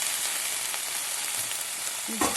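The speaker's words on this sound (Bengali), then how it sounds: "তার জন্য কড়াইতে সব সেঁকে নিচ্ছি পাতাগুলা, আর এরপর জলটা শুকিয়ে নিচ্ছি।" A continuous hiss of leaves and green chillies with garlic roasting dry in a kadai as water cooks off, with a brief stir or clatter near the end.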